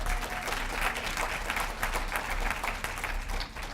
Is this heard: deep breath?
no